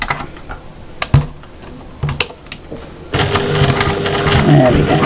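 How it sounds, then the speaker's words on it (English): A sewing machine top stitches a fabric cross body bag, starting with a few short clicks and taps before running in a steady, close mechanical whir for the last two seconds. "Nice neat top stitch around that little square."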